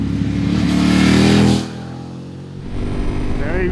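A 2024 Ducati Panigale V4S engine revs hard to a loud high-pitched peak, then drops back and settles into a lower drone before climbing again, heard up close.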